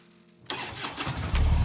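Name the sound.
motorcycles starting and departing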